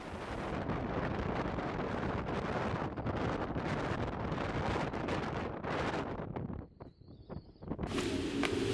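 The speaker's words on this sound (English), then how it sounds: "It was time for the daily afternoon squall." Strong gusts of a daily afternoon squall buffet a boat at anchor off the Isle of Women, a loud roaring wind rushing across the microphone that briefly drops before surging again.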